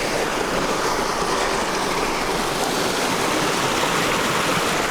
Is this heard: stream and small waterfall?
yes